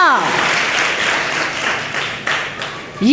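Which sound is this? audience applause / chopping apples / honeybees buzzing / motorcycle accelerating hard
audience applause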